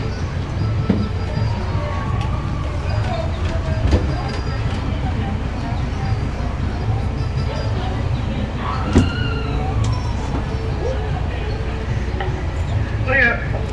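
A Hersheypark tram rolls along with a steady low rumble, punctuated by occasional metallic squeals and brief electronic tones.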